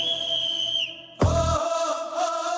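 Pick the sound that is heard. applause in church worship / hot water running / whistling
whistling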